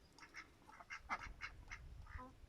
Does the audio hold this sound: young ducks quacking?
yes